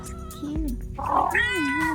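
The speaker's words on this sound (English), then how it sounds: "The kitty is following me." A small cat walks along close behind someone and gives two short, clear meows in quick succession, close and fairly loud over a faint background hum.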